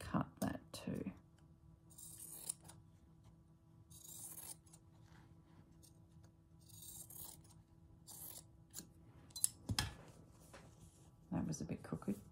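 Scissors snipping through a fabric scrap during vintage needle-turn appliqué sewing, several close, quiet crisp cuts with clicks between them and a few soft handling sounds.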